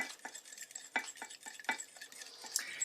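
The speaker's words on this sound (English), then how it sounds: "we're going to just lightly beat these eggs" Eggs being lightly beaten in a bowl with a utensil for a stevia tea loaf, a quick series of close, soft taps and scrapes against the bowl, fairly faint.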